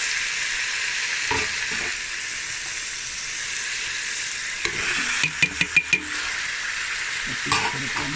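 Vegetables frying and being stirred into Tom Yum paste in a pan for a Thai fish soup, with a steady close sizzle and a quick burst of spoon scrapes against the pan toward the end.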